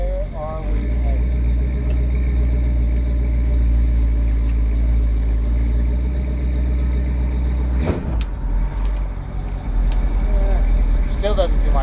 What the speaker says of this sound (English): Still doesn't seem like it's coming back down on the idle right.